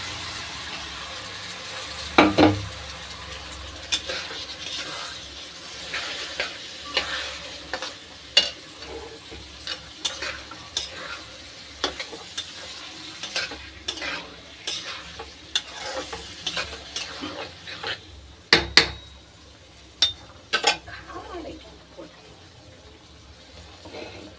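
Cowpeas tipped into hot oil and stirred, an ongoing sizzle broken by irregular scraping and clinking of a spoon in the pan, with a couple of louder knocks.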